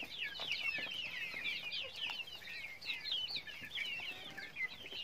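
Free-range village chickens in a small shed clucking and chattering busily as they eat greens, a dense overlapping flock of soft calls nearby with occasional wing rustles, no talk.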